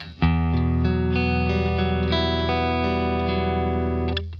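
An electric guitar rings out a clean, evenly sustained chord and a few notes with smooth, compressed dynamics.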